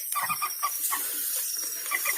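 Moorhen calls during a night netting hunt come as a string of short, nasal, clucking notes repeated in small bunches, fairly close and steady over a low background hiss, with no talk.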